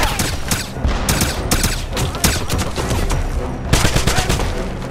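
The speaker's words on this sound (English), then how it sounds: "It's a crossfire!" Heavy gunfire in a crossfire, a dense, loud, continuous barrage of overlapping shots and rapid automatic bursts that keeps going throughout with no let-up.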